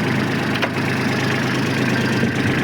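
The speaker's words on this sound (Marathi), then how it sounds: "अशी चालू आहे आमची ट्रॅक्टरची" A farm tractor's engine runs close by at a steady idle, a loud, continuous low rumble with no voices over it.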